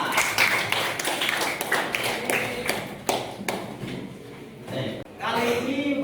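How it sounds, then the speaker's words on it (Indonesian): Students in a school classroom clap in a brisk, uneven patter of sharp hand claps, mixed with voices talking over and between the claps. "tepuk tangan untuk Azam dan Bang Azra."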